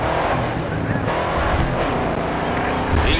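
A Dodge Challenger engine roars in the racing game Grid 2, a constant loud drone with shifting pitch and faint tire noise, while someone talks excitedly over it.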